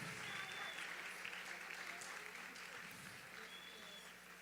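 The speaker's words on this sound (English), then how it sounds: "Let's give us a big round of applause" Faint, distant audience applause at a community Positive Impact Awards ceremony, a soft continuous patter of clapping that tapers slightly toward the end.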